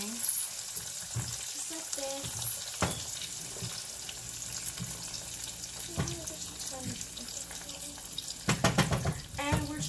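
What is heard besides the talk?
fries frying in a pan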